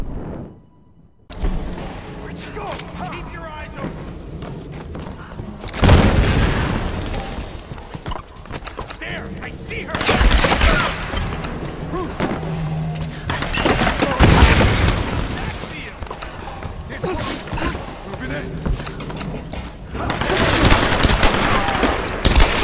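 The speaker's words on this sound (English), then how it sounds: "Shooting at us!" Gunfire in the Tomb Raider Shantytown level, bursts of shots and booms coming in loud waves over a constant rumble of battle, with a voice speaking in places.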